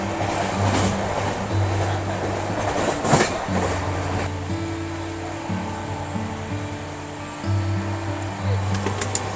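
Howrah–Patna Janshatabdi Express running near Raniganj, heard from inside the coach as a steady rumble and rattle of carriages with rhythmic wheel clatter and a low droning hum.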